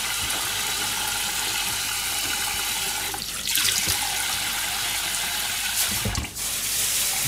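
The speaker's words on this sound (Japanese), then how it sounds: "ちょっとだけ厚があるから、洗ってあげる。" Tap water streams over thick-cut slices of daikon radish as they are washed in a kitchen sink, a steady close gush of running water that briefly surges and splashes, with no talking.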